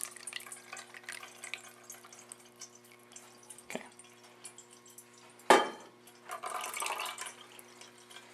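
Mushroom soaking liquid pours and trickles through a paper-towel-lined strainer, a quiet wet hiss with a brief splash partway through, then a steadier pouring rush toward the end.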